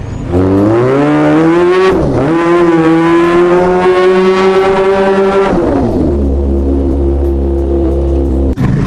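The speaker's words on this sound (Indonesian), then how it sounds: "Itu sepeda motor ZX 4 silinder yang. Bunyinya sangar banget" A ZX four-cylinder motorcycle engine revs hard and close, its tone climbing steadily for about five seconds before dropping back to a loud, steady idle.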